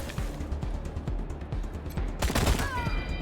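Rapid bursts of gunfire in the post-apocalyptic tactical game Wasteland 3: several loud, close shots crack in a quick volley, ending in a ringing tonal tail.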